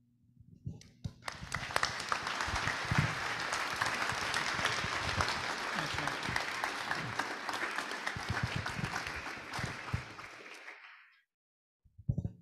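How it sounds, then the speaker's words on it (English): A room of attendees at a Rotary Club hybrid meeting gives the speakers a sustained round of applause, a dense even wash of clapping lasting about ten seconds before stopping abruptly. "please give another round of applause"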